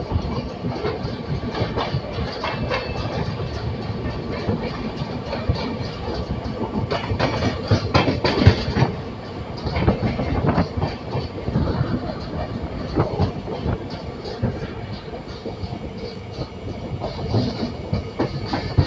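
The Shatabdi Express, train 12025 from Pune to Secunderabad, rumbles along the rails near Solapur, heard from inside the coach with steady rolling noise and rhythmic clatter of the wheels.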